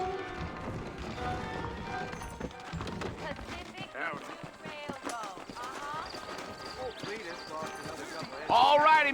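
Horse hooves clip-clop at a steady trotting rhythm in the Western game Red Dead Redemption, close and clear under continuous dialogue from several characters, with a louder burst near the end.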